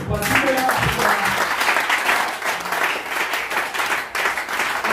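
A church congregation at a seminar in Lomé breaks into loud, sustained applause, dense clapping rolling on throughout, with voices mixed into the crowd noise.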